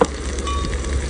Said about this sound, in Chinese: 葱姜蒜辣椒爆香